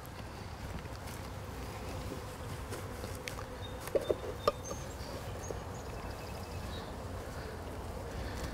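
A dense, steady hum of many buzzing honeybees fills the air, constant and close, with a few faint clicks and brief sounds.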